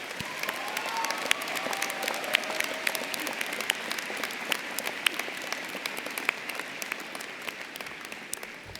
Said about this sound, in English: Could we please give a huge round of applause to all the moms out here?